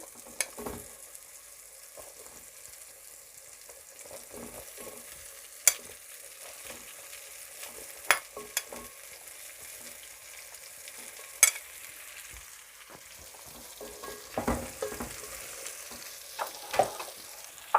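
Potatoes are stirred through beef pilau frying in a pot, making a continuous sizzle broken by sharp spoon clinks and scrapes at irregular intervals, close by and fairly loud, with no voices.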